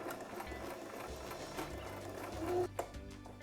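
A sewing machine runs a line of stitches along a webbing strap for a homemade waist bag, a fast mechanical whirring chatter close by that ends with a clunk.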